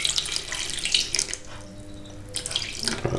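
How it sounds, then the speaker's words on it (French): Tap water runs into a bowl holding sourdough starter, a steady close splashing stream that briefly eases off and then resumes. "ce que je vais faire, je vais mettre de l'eau"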